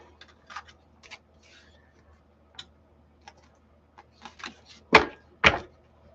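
Tarot cards being shuffled by hand: a few soft, scattered clicks and rustles, then two louder, sharper riffling snaps close together near the end, with no talking.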